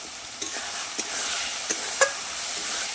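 Tomatoes hitting a well-fried spice paste in a hot pan: a steady, bright sizzle with a few sharp stirring clicks, close and continuous, with no voices.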